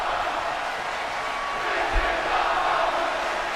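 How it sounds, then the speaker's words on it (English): A video game arena crowd in WWE 2K22 roars in a steady, loud wash, with a brief low thump near the middle and the rhythmic swell of a chant blended into the din. "The crowd chanting, "This is awesome.""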